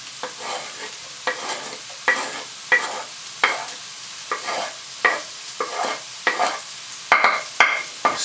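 Pre-chopped onions sizzle in a hot pan while being stirred, a steady hiss broken by regular scraping strokes roughly every half second, close up and without talk.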